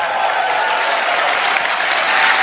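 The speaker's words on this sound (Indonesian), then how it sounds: "Tepuk tangan sekali lagi untuk Calontong" Loud, sustained audience applause for an Indonesian comedy host on stage, a thick unbroken wall of clapping from a large crowd that swells slightly near the end.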